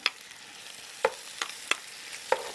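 Calamari fries in a restaurant pan, a quiet steady sizzle broken by several short, sharp crackles and spatters spaced irregularly, with no voices.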